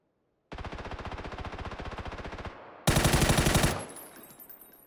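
Rapid, loud automatic fire from an S12K shotgun in the PUBG video game: a sustained string of close shots, a brief pause, then a louder, denser second burst that trails off.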